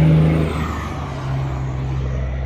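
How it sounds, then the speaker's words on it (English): A loud truck rumbles past close by with a deep, steady drone that starts strongest and then holds at a lower level for a couple of seconds. "That truck's pretty damn loud,"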